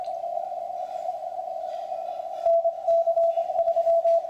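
Morse code CW tone received on a Yaesu FT-710 transceiver with the audio peak filter engaged: a steady, clean single-pitch tone stands out over little background noise, followed by keyed on-off dits and dahs in the second half.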